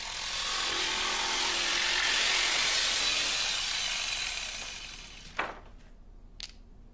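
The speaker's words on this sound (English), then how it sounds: "Cut along these lines with the jigsaw" Continuous harsh buzz of a jigsaw cutting a wooden floorboard, fading out after about four seconds, followed by a couple of sharp knocks.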